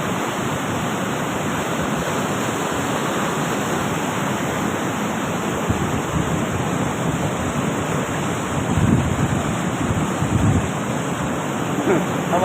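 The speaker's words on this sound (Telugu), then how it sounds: "అది చూడ ఒకసారి ఎంత పోతుందో నీళ్ళు" Water rushing over Adupayala Dam, a loud continuous roar of heavy flow filling the whole scene, steady and close, with faint voices underneath.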